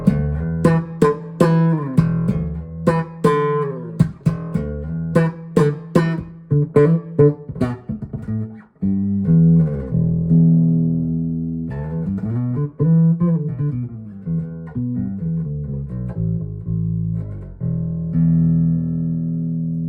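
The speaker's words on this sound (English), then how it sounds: "Beautiful sounding P bass." An Ibanez Roadstar II RB630 P bass with a single P pickup plays a melodic line alone, starting with punchy plucked notes in a steady rhythm, then moving into sustained, sliding phrases, close and clear.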